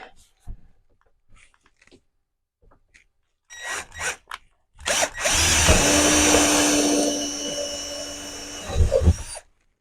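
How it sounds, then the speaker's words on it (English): A power drill with a 1/8 inch bit drives into a cross member during riveting work, whining loudly for several seconds after brief clicks and handling noises, ending with short bursts. "1/8 inch drill bit."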